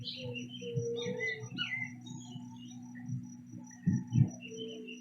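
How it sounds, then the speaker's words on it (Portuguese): Birds chirp and trill in scattered bursts outdoors near a waterfall, over a steady low hum and a faint insect-like buzz, with a couple of louder dull thumps near the end. "eu consigo escutar os passarinhos cantando à minha volta,"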